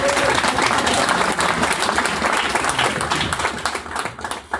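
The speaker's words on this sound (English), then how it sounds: "I'd like to thank, with a little round of applause, if you had any of the pizza" Audience at a web development meetup on D3.js data visualization claps for sponsor PayPal, a dense, loud burst of applause that holds steady and then thins out toward the end.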